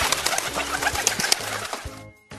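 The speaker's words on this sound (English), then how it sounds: "There were lots of pigeons in Trafalgar Square." Pigeons in Trafalgar Square, London, with repeated low cooing pulses under a busy bed of outdoor city and bird noise, fairly close and steady before dropping away near the end.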